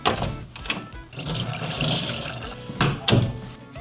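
Running tap water splashes over a dusty circulator fan being washed, a steady rushing stream with a few louder surges and clatters, close and alone.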